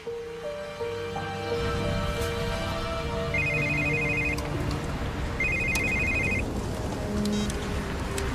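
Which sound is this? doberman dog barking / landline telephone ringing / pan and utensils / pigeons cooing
landline telephone ringing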